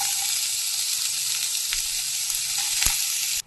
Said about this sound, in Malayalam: അപ്പോൾ മീൻ പൊരിച്ച പാത്രത്തിൽ തന്നെ നമുക്ക് ഇനി ഉള്ളി വഴറ്റിയെടുക്കാം.